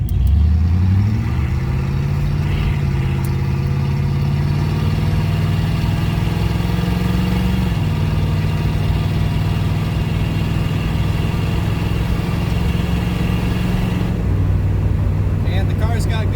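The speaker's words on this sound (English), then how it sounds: "Pulling out onto a highway here." A Pontiac Trans Am with a rebuilt carburetor pulls onto a highway, its engine note rising through the gears, then droning steadily and loudly from inside the car as someone talks over it.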